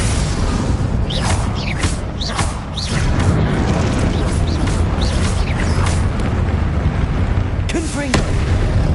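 Confringo fire spells exploding in the Hogwarts Legacy video game, a loud, dense barrage of booming blasts and crackling bursts with whooshing streaks, repeated over several seconds, while a voice calls out spell names over the noise.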